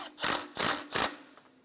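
A bolt on the AC compressor of a 2007-2012 Nissan Altima being snugged down with a ratchet: three short, close, loud bursts of clicking, each about a quarter second long, followed by a faint fourth tick.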